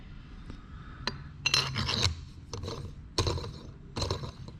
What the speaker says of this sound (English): And that screws in the back to tighten the collet.